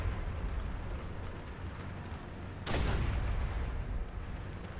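A single sharp gunshot cracks out over a low rumbling tank engine during War Thunder gameplay, fired at trees, with the rumble continuing steadily afterward.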